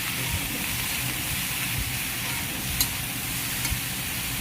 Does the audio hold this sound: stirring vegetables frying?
yes